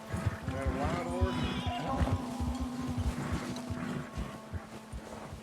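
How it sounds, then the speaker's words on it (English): A horse neighs outdoors in a long, wavering whinny near the start, with hoof clip-clops and people talking over it. "I thought I heard a horse"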